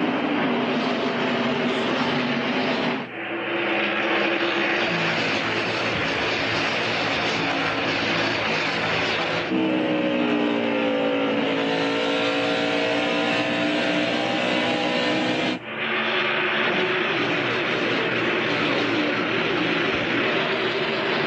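NASCAR stock cars racing at Rockingham in the 1999 Pop Secret Microwave Popcorn 400, a loud sustained roar of engines passing in continuous waves with rising and falling pitch, and a brief spoken word at one point.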